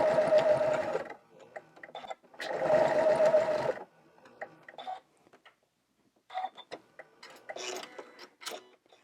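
Sewing machine stitching a pieced quilt block, two steady buzzing runs of rapid stitching followed by quieter clicks and handling noises as the fabric is adjusted.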